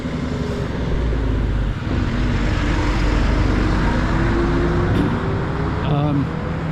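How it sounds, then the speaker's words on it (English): Road traffic passes near a river in the morning, a steady loud roar of vehicles with engine rumble throughout, while someone talks over it. "You'll have to excuse the traffic, I'm afraid."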